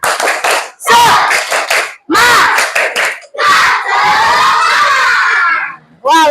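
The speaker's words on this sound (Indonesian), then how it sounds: "Tepuk semangat." Schoolchildren in a classroom burst into loud bursts of rhythmic clapping and shouted chanting, several energetic phrases separated by short pauses.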